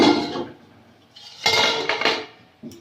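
A metal lid lifts off a pot of boiling fish curry in a village kitchen, with a few loud clattering knocks and clinks close by, then a brief faint tap at the end.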